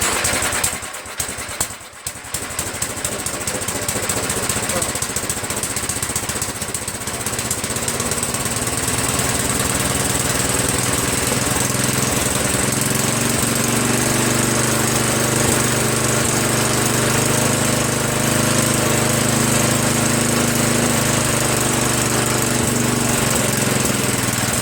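Tecumseh low-profile snow blower engine on a Jacobsen Imperial 2, fitted with a new muffler, pull-started after priming, then running loud and steady with a continuous close buzzing drone.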